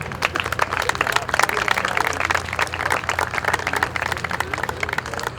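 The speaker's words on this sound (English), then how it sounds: "Please give a warm round of applause." An audience at a high school graduation claps in steady, dense applause throughout the clip. Many hands patter quickly and fairly loudly, with a faint crowd murmur underneath.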